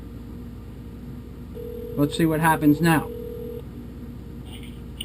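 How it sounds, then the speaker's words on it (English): A telephone gives a steady ringing tone for about two seconds while someone talks over it, on a call to the TSA contact center. "Wait, the phone's ringing."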